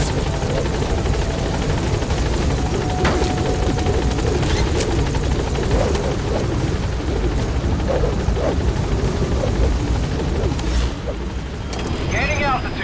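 The Pequod helicopter in Metal Gear Solid V: The Phantom Pain gives a loud, continuous rotor drone and whine close by, with a radio voice speaking over it and a few sharp knocks.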